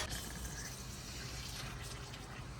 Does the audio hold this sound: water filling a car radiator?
yes